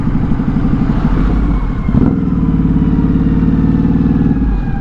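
A Ducati Hypermotard 950 RVE motorcycle rides on a highway with a loud, close, continuous engine drone. The pulsing mid-low tone shifts briefly near the middle as the throttle changes, and wind noise sits over it.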